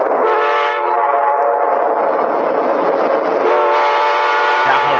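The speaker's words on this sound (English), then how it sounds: "That horn's so classic." An Amtrak F40PH diesel locomotive sounds its Nathan K5LA or P5 air horn, a loud sustained chord holding for about five seconds, with a brief shift in tone midway and faint talk at the very end.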